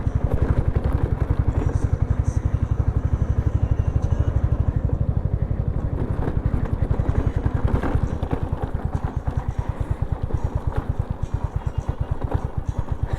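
A motorcycle engine thumps with a rapid steady rhythm while the bike is ridden slowly over a rough off-road stretch on the route from Chandigarh toward Kullu, loud and close with faint rattling and wind noise.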